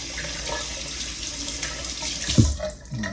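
Water runs steadily from a bathroom sink tap while a man rinses his face, a continuous splashing stream with a brief louder splash near the end.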